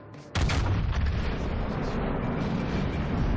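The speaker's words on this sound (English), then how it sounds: "The gun sound is absolutely gorgeous." A thunderous naval gun salvo from the Yamato battleship's main guns in World of Warships Legends, one sudden sharp blast followed by a long, heavy rumbling roar that sustains without fading.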